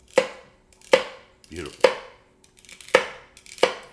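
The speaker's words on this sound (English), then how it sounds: "But we want to use a nice hard, brand new fresh celery. As you can see, it just melts through." A sharp new kitchen knife chops hard fresh celery on a board, five crisp, evenly spaced cuts sounding close and clear, with a brief spoken remark between them.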